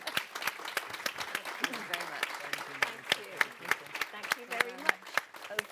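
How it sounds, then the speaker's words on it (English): Audience applause for the speakers at the close of a panel on early-years financing: steady, fairly quiet clapping with sharp individual claps standing out, while people talk over it. "Now I think we can give them a round of applause."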